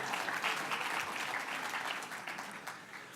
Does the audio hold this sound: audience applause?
yes